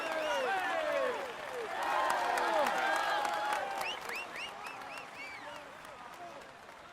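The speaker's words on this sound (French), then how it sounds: "vous pouvez l'applaudir bien fort" Audience applause for the polka-dot jersey winner at a Tour de France stage ceremony, a dense steady patter of clapping with whistle-like chirps and crowd noise over the full stretch, easing slightly toward the end.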